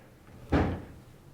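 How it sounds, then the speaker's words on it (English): A single door bump inside an old manor house: one short, muffled thud, close and moderately loud, standing alone against quiet room tone. "What door was that?"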